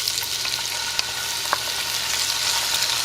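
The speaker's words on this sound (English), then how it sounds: "Now we're just gonna saute our onions, garlic, and tomato until it's nice and soft." Onions, garlic and tomato sauté in oil for vegan Mexican albondigas soup, giving a steady, close sizzle and crackle with a few faint stirring clicks, with no one speaking.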